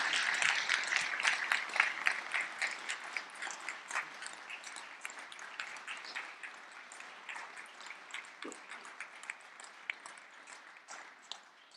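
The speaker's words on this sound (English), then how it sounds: "Let's give Kari a round of applause." A seminar audience claps after a talk, quiet and fairly distant; the patter starts fuller and thins out over about ten seconds into scattered claps.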